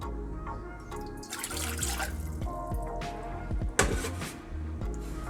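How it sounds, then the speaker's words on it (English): A cup of water poured into a saucepan to make syrup for Turkish baklava, a continuous splashing, gurgling pour close by with clinks of the pan. "I'm going to add a cup of water."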